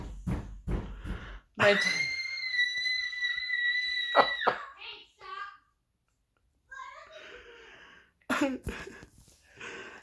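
A young girl's high, sustained scream rises suddenly and holds for about two and a half seconds, loud and close, with shorter cries and voices around it before and after.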